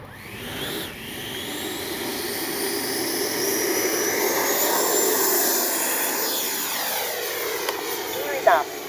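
FMS Avanti S 90mm RC jet spooling up and taking off, a steady high-pitched turbine whine that rises and sweeps as it accelerates away, moderately loud with a faint click near the end.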